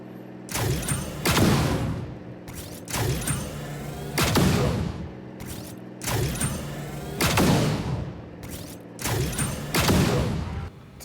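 Bursts of gunfire in the mobile shooter BGMI, fired at vehicles, come in several loud repeated volleys with short pauses between, each followed by booming impacts and debris.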